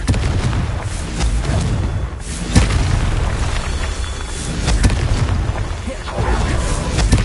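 Spell explosions in a Hogwarts video game, the Confringo fire blast among rapid casting, give a loud dense run of booms and bursts over constant battle noise, with a voice calling out at times.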